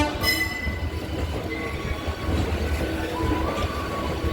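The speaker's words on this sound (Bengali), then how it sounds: "এই হাওড়া থেকে ট্রেন ছেড়ে দিয়েছে" A train pulling out of Howrah station, its steady low rumble of wheels and carriages filling the whole stretch, with a faint horn-like tone near the start and continuous rattling throughout.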